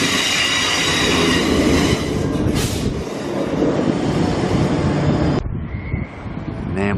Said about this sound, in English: Nambour train arriving platform 9.